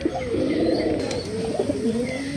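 Domestic pigeons coo close by, low soft rolling calls repeating over a faint background murmur.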